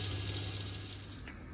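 Hot water runs steadily from a tap in a Kontiki 679 caravan, a constant close hiss and splash that softens a little toward the end.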